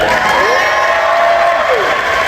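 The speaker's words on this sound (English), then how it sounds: "Can we have a round of applause for Lee?" A convention crowd at a cosplay competition claps and cheers for Lee, a loud continuous wash of applause with whoops and a voice rising above it.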